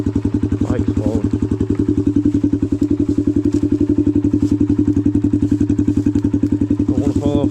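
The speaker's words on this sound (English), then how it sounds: "Bike's falling." A dirt bike in a creek, its engine chugging steadily and loud and close throughout, with a clatter and splash-like thuds as it tips over and voices exclaiming over it.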